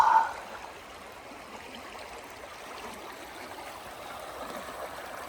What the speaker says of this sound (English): This is one of those campsites next to a creek that's not too loud as well.